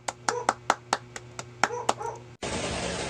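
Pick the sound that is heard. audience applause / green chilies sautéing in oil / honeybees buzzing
audience applause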